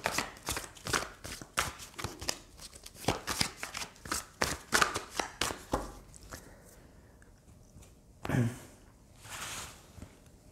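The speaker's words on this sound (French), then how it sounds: "je tire les cartes devant vous" Tarot cards shuffled and drawn, a rapid run of crisp riffling flicks and slaps, close and fairly loud, easing into a few isolated card sounds and a soft thump.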